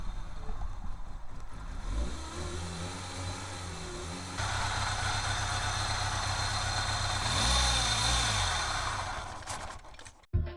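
A VW Vento engine, struggling on ethanol with its ignition timing being adjusted, runs and idles with a steady low rumble, swelling briefly midway and dropping out abruptly near the end.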